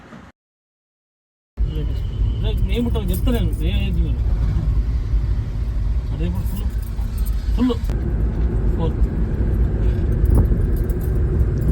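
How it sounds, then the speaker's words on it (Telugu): A car being driven, with a steady low engine and road rumble running throughout and a voice talking over it for much of the time, after a brief silent gap at the start. "మళ్ళీ ఈరోజు అయితే స్టార్ట్ చేసిన నేను డ్రైవింగ్ చేస్తున్నాను"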